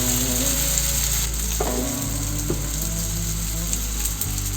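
Cheese spring rolls (nems) frying in a hot pan, a loud steady sizzle of oil with a few sharp clinks of a utensil turning them, no talking.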